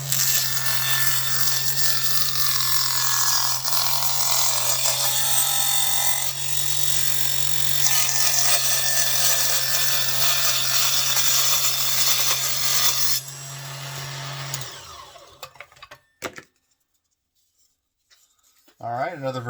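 Huanyu mini table saw cutting roughly 4 mm plywood: a steady, loud whining buzz with rasping blade noise runs for about thirteen seconds, then the motor spins down into near silence with a few handling knocks.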